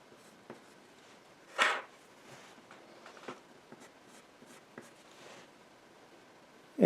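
An artist's pencil scratches and taps across paper in short strokes and quick marks, faint and close, with one louder rustle of the page.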